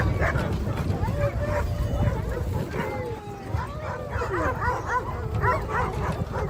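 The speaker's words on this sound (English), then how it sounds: "the dogs are just crazy in there" Several excited dogs on a summer trip bark, yip and whimper in rapid, overlapping bursts close by, with a low rumble underneath.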